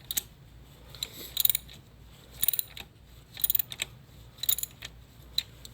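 A ratchet loosens a 12mm bolt on the alternator of a Kia Soul 1.6L, giving quick bursts of clicking at a steady rhythm, close and fairly quiet, with no talking.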